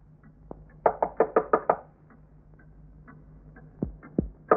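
Five loud, even knocks rap on a door in quick succession near the start, followed by quieter scattered thuds and a couple of sharper taps, in an otherwise quiet indoor room.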